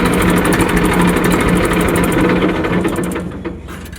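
A tractor engine idles nearby with a steady, chugging mid-pitched drone and faint rattle, holding even before easing off and quieting in the last second.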